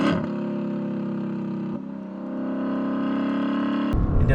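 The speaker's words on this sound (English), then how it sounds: "So we'll start downshifting now." A Lexus LC 500 V8 held at high revs during downshifts, with a loud sustained engine whine that breaks once in the middle and ends with a sharp blip and a rough burble.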